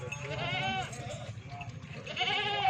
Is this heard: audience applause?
no